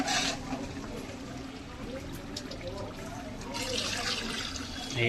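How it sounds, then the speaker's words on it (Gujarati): About two litres of water poured into a cooking pot of gravy for village wedding-feast cooking, a continuous splashing, filling rush that swells toward the end, set against steady background noise. "તો હવે આમાં નાખીએ આપણે પાણી."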